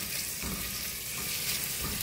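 Onions sauté in a pan for spring roll filling, giving a steady, close sizzle and crackle with soft stirring scrapes and no talking.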